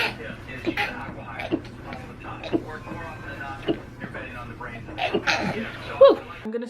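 A person sneezes several times in a row indoors, the sharp bursts coming at a quick, uneven rhythm, close and fairly loud, with soft breaths and quiet whispered sounds in between.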